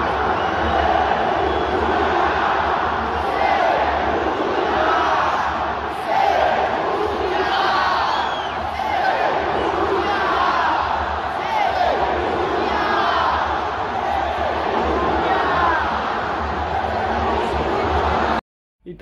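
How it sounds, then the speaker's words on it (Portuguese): Corinthians football fans in a stadium chant a taunting rhythmic slogan in unison, a massive roaring crowd with repeated surging shouts that rise and fall steadily for nearly twenty seconds. "a torcida do Corinthians simplesmente começou a gritar sem mundial, sem mundial"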